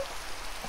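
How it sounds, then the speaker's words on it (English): Steady hiss of rain falling in the video game Minecraft, a dense even patter filling the short stretch without pause or talk. "Rain."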